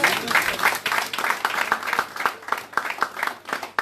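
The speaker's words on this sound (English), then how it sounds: "You should clap for yourself." Scattered clapping from an audience at a London town hall meeting and fundraiser, individual claps audible in an uneven rhythm rather than a dense roar, moderately loud and close.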